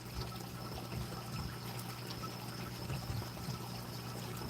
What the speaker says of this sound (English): Could you guys sit here and listen to that water all night or what?